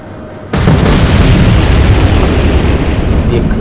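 A loud, sustained torpedo explosion from the naval video game Atlantic Fleet, set in the Battle of the Atlantic, starts abruptly after a brief lead-in and keeps rumbling at full strength as a ship sinks.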